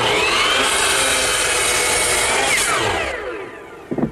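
A hand saw cuts through the end of a wooden workpiece set in a miter box, loud steady rasping strokes that run continuously before ending with a couple of light knocks.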